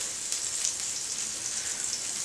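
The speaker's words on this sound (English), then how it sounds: "The sizzling, that's what you want to hear when you're cooking." Blackberry oatmeal pancake batter sizzling in a hot pan, a steady bright crackling hiss that continues evenly throughout, close and fairly loud, with no talking.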